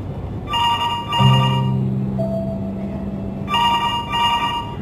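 Two bursts of a bright electronic phone ringtone sound near the start and a third near the end, a steady tone sustaining between them, clear and without talk.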